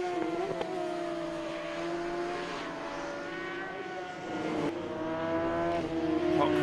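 Racing sidecars lapping at the Sachenring during a sidecar world championship race, engines whining at high revs with shifting pitch as machines pass and overtake backmarkers, loud and continuous.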